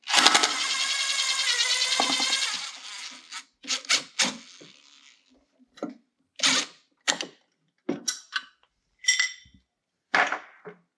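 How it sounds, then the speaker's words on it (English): An air impact gun runs a bolt off a snowmobile primary clutch: one sustained whirring burst of about two seconds, then a string of short, sharp rattling bursts with gaps between them. "make sure we keep pressure on our gun so as the bolt comes to the end of the threads, we don't run into any stripping"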